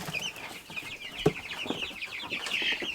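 A flock of fat meat-bird chickens in a chicken tractor clucks and chatters continuously, close and moderately loud, with overlapping calls and a few sharper squawks and no talk.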